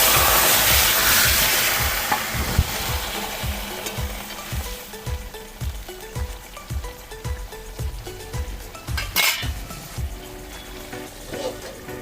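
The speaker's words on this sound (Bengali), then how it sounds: "এবার তরকারিটা ঢেলে দিচ্ছি" Curry is poured into a hot pan during the making of a puti fish and helencha greens jhol, setting off a loud steady sizzle and frying crackle with rhythmic stirring scrapes and a brief splash.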